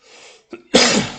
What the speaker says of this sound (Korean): 기침이 좀 있네요.